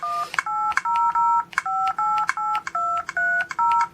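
Touchscreen dial pad of a Palm Treo 700wx phone producing a rapid series of about ten crisp dual-tone dialing beeps, close and clear, each short tone separated by brief gaps.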